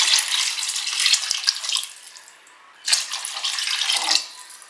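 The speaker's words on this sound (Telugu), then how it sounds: "దానికోసం 3 గ్లాసులు నీళ్ళు యాడ్ చేస్తున్నాను" Water runs from a tap into a pot for chicken pulao, a hissing splashing stream in bursts that pauses briefly in the middle and then resumes before cutting off.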